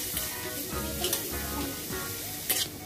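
Turmeric and asafoetida sizzle in hot oil for matki usal while a spoon scrapes and stirs them around the pan, a dense close crackle with irregular scraping strokes.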